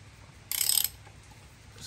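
A ratchet with a 14mm hex socket works on the engine cover bolt of a Royal Enfield 350cc motorcycle, giving one short, close burst of rapid metallic clicking followed by quiet.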